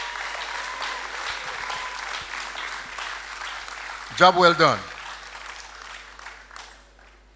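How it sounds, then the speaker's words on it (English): Audience applause at an upper sixth form school leaving ceremony at a boys' high school, a brief burst of clapping and cheering rising over a speaker's voice and fading after about a second, with talk continuing across the hall. "give yourselves a rousing round of applause"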